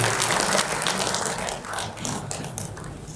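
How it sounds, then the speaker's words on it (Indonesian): A crowd applauding steadily, dense clapping filling the space for a few seconds and tapering slightly near the middle before carrying on. "Kami persilakan tepuk tangan untuk narasumber kita berdua."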